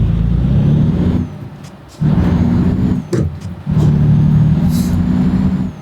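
A truck engine in Euro Truck Simulator 2 is started repeatedly, with loud, low diesel rumbles that surge, drop off briefly and catch again in three close bursts.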